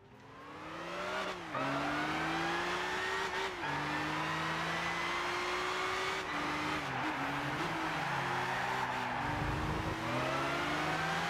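Race cars lapping Silverstone in Gran Turismo 6 at a tournament, engines droning loud and steady with rising and falling pitch as gears shift, alone without talk for the whole stretch.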